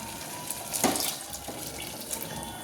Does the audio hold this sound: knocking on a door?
no